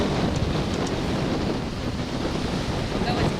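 Open-ocean waves roll past a sailing boat at sea, heard as a continuous broadband wash mixed with heavy wind buffeting the microphone, loud and unbroken throughout.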